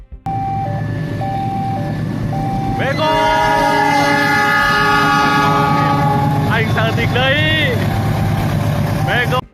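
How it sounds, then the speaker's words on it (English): A loud train horn blares in sustained blasts over the heavy rumble of a passing train, with a brief squeal and a second honk near the end. "Suddenly, a train siren wails in the distance."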